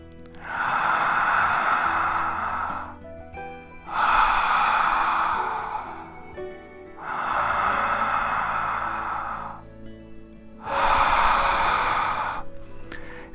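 Slow ujjayi pranayama breathing through a constricted throat, four long hissing breaths in and out with a soft ocean-like rasp, close and steady with brief pauses between.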